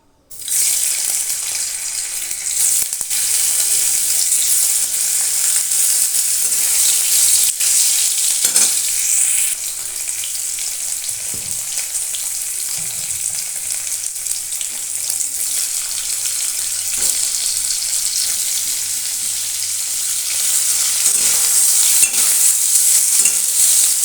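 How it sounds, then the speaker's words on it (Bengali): Paneer fries lightly in mustard oil, giving a steady, bright sizzle and hiss throughout with occasional soft stirring knocks. A brief louder swell comes near the end. "খুব বেশিটা আমি ভাজবো না, হালকা করে ভাজবো।"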